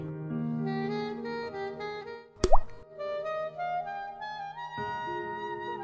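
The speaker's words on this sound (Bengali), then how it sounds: "শেষবারের মতো চিনি আর তেলটা দিয়ে দিলাম" Sugar and oil drop into whipped egg foam for a stovetop apple cake, making one short, soft plop in the middle of steady background music.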